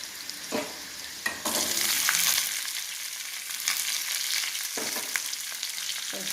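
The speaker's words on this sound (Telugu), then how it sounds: "తాలింపు వేగిపోయిందండి. ఇప్పుడు మనం క్యాలీఫ్లవర్ ముక్కలు వేసుకోవాలి." Cauliflower pieces tipped into a hot tempering: a sudden surge of loud sizzling after a few utensil knocks, then a steady frying hiss punctuated by occasional stirring scrapes, close up with no talking.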